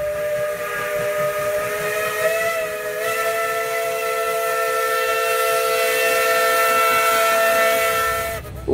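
A Thomas toy steam train whistle blows one long, steady, shrill tone with an airy hiss, loud and close, then cuts off abruptly.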